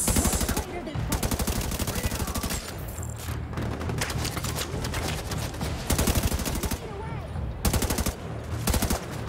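Rapid automatic gunfire from a gun in The Division 2, loud close bursts of repeated shots separated by brief pauses, continuing through most of the stretch.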